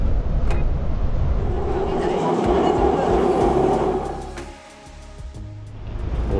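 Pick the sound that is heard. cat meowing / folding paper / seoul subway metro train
seoul subway metro train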